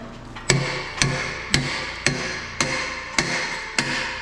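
Sharp hammer blows land one after another at a steady pace, about two per second, loud and close, with a faint ring after each strike, while working on a BMW drift car.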